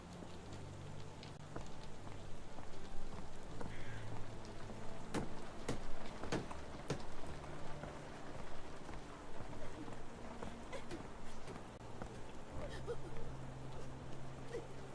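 Steady video game rain patters across a surface, with a constant wash of drops and a few sharper taps, over a low droning hum in the background.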